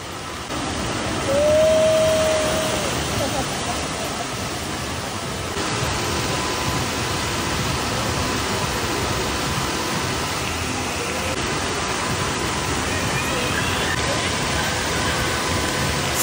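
Steady broadband rushing of water pouring down a water slide at a coastal leisure spot, continuous and loud throughout, with a faint brief tonal whistle early on.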